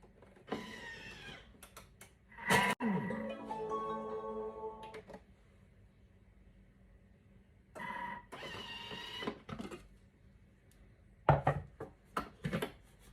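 A Thermomix blends a minced meat and onion mixture for meatballs in short whirring bursts that rise in pitch, separated by quiet gaps, with a few sharp clicks and knocks from the bowl.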